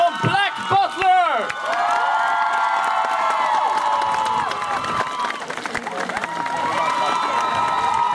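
A crowd cheers, whoops and applauds for a cosplay award winner at the Närcon Summer 2014 prize ceremony: loud shouts open the clip, then sustained dense clapping and cheering continue steadily to the end.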